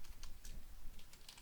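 Quick, faint clicking of keys on a computer keyboard, a dense irregular patter of light taps heard up close with no voices.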